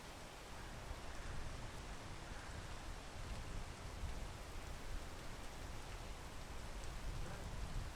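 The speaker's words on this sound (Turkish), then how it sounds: "Abi yağmur çok zorlaştırıyor bir dakika." Steady, even rain hiss in a video game fills the whole stretch, a soft continuous patter with no voices.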